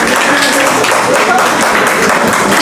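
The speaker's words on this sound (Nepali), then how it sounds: "ताली बजाइदिनुहोस् न त।" A room full of listeners claps for a poem recited at a literary reading gathering, producing dense, steady applause that stays loud and unbroken for the whole moment.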